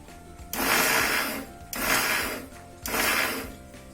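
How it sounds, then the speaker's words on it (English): A mixie grinder coarse-grinding a mixture in a medium jar, running in three short loud bursts of whirring motor noise separated by brief pauses. "in the medium size mixie jar, and you have to coarse grind it"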